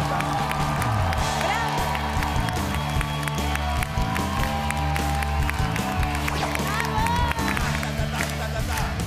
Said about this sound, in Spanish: ¡El aplauso para Rata!